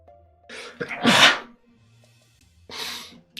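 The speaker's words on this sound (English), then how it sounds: "Ugh, big sneeze." A single loud, close sneeze with a sharp intake before it, followed by a heavy breath out.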